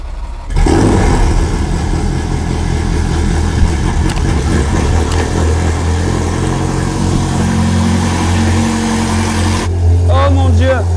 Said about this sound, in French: Oh mon Dieu, elle fait tellement de bruit.